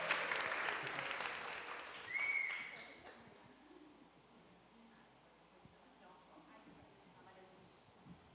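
An audience at an opening lecture for a public relations course breaks into applause, loud dense clapping that fades away after about three seconds, followed by quieter room noise and a voice.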